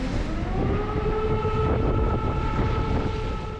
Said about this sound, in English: sirens wail in deserted streets that echo fear and dread